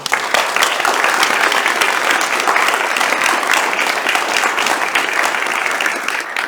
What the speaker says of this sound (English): a big round of applause, please, for these hardworking